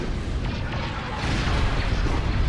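Space battle weapons fire in the strategy game Awakening of the Rebellion, a dense rumble of booming cannon blasts and bursts rolling continuously, loud and heavy with no talk.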